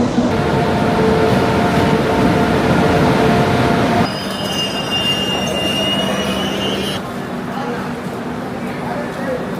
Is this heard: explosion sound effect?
no